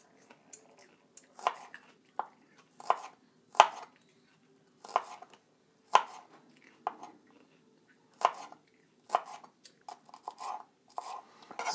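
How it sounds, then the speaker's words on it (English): Knife slicing scallions on a cutting board at home while making an orange and cashew chicken stir-fry: a dozen or so crisp, close taps at an uneven pace, with quiet gaps between them. "So now we're going to trim scallions. We're gonna thinly slice the white and light green sections."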